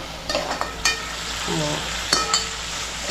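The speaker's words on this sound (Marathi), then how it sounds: "कांदा जरा आपण नीट परतून घेऊया आधी आणि त्यानंतर टमॅटो घालूया" Onion and tomato sautéing in a pan, giving a soft continuous sizzle with a few sharp clinks and scrapes of a spoon, close but fairly quiet and without speech.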